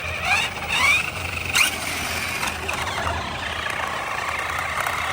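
A Traxxas Big Foot 4x4 RC truck with a hot motor makes a steady whining drivetrain noise from the differential, with rising and falling squeals and brief louder bursts early on.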